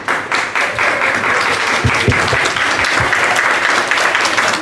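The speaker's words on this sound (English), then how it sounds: "Let's give another round of applause for Dr. Gigi" A crowd at a presentation gives a loud, sustained round of applause, many hands clapping together in a steady roar with a few sharper individual claps standing out.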